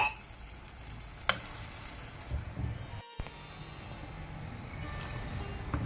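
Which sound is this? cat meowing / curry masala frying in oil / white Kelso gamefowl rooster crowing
curry masala frying in oil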